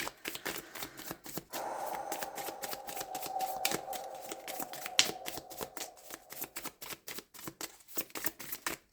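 A tarot card is handled and turned over on a table, giving soft, close, rapid clicks and taps in an irregular patter, with a faint steady hum underneath for a stretch and one sharper snap midway.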